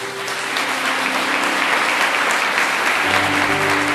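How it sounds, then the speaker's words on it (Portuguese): A crowd applauds steadily, dense clapping sustained throughout with a faint murmur of voices underneath. "Dá uma salva de palmas para ele."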